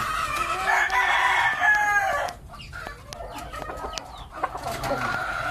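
Round head breed rooster crowing, a loud near call with drawn-out harmonic tones, followed by scattered clucks and chicken calls from a farmyard flock.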